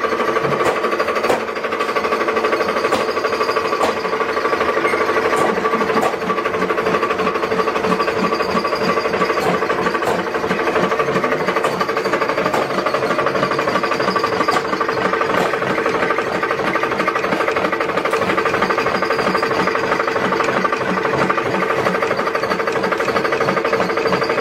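A polishing machine runs on snake leather in a Banyuwangi leather workshop, buffing it to a white gloss: a loud, steady mechanical drone with fast rhythmic rattling throughout, no voices.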